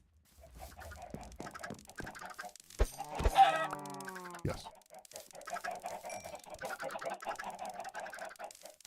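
Chickens cluck and squawk in a video game, with a rising crow-like call midway and a steady chorus of clucking that continues behind it; one brief spoken word comes near the start.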